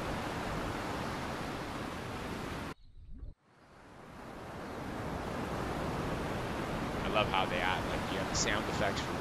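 Ocean sound effects in an Unreal Engine 5 Oceanology demo: a steady surf-like wash cuts out abruptly, gives way to a muffled underwater hush, then slowly builds back to waves above the surface.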